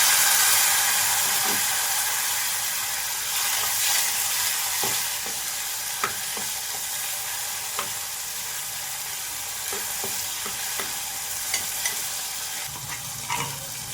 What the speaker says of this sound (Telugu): టమాటాలు అయితే వేస్తున్నాం